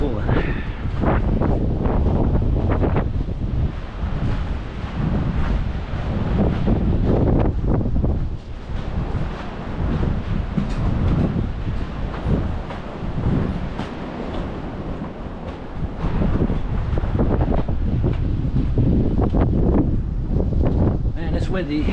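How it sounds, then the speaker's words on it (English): Heavy wind buffeting a handheld microphone outdoors, a loud continuous low rumble with gusty swells and dips lasting throughout, muffled voices faintly underneath. "Man, it's windy. I hope it's not too much noise for y'all."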